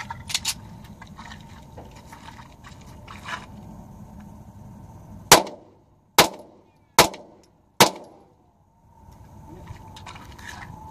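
A Ruger pistol fires at a bottle with four loud, sharp shots spaced just under a second apart, each ringing off briefly, after a stretch of quiet background noise.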